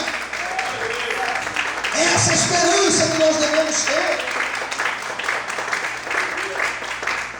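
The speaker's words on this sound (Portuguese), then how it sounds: "Será que você pode aplaudir e adorar o Senhor?" A church congregation applauds during a sermon, steady crowd clapping running throughout while a preacher speaks over it, with a brief swell of voices in the middle.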